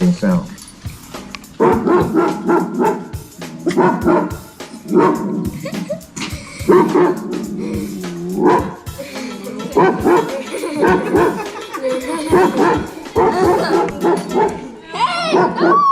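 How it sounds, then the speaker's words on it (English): German Shepherd barking sound effect, loud and near, with repeated sharp barks in irregular bursts and some whimpering and yipping between them, running for about sixteen seconds. "German Shepherd barking sound."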